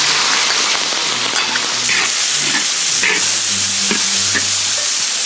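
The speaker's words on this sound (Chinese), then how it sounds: "再把这些料倒下去炒一下" Ingredients and fried tofu being stir-fried in a hot wok, a steady loud sizzle with repeated scraping stirs throughout, no talk.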